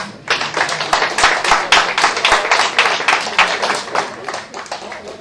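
Warm applause at a fighter's weigh-in before a Fight Night gala, a roomful of people clapping loudly and steadily for several seconds, the claps swelling and then tapering off.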